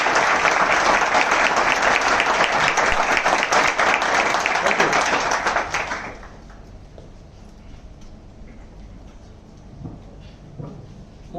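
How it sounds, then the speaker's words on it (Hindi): An audience at a gathering gives loud, dense applause for about six seconds. It then fades out, leaving quiet room tone with a few scattered claps and murmurs. "लीडर्स के लिए एक बार जोरदार ताली।"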